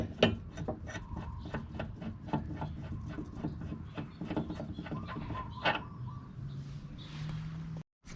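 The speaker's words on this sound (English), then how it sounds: "And unscrew the tie rod." An inner tie rod on a 2000 Subaru Forester is unscrewed by hand, giving a close, steady series of dry rasping turns and ticks, quiet and rhythmic, before the sound cuts off abruptly near the end.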